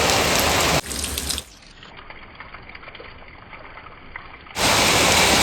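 Steady rain pouring down in a village in Botad, a loud broadband wash that cuts to a quieter, thinner patter midway before the heavy downpour returns in full.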